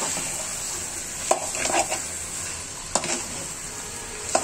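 Broiler chicken pieces with masala sizzle and fry steadily in a pan for a curry, with a few sharp stirring scrapes of a spoon against the pan.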